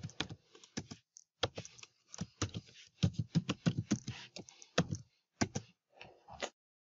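Fast typing on a computer keyboard while entering an email address, close and crisp, with quick clusters of key clicks broken by short pauses.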